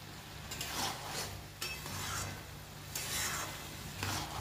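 Bottle gourd with prawns being stirred in a pan, a spatula scraping and turning the pieces in a few slow sweeps over a soft, steady sizzle, with no talking.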